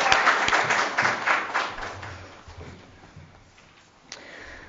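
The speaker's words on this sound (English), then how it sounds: "So a big round of applause for Jean." Applause for a speaker at a seminar on girls' rights in war and conflict, a full burst of audience clapping that gradually thins and fades, ending with a faint murmur and a single sharp tap.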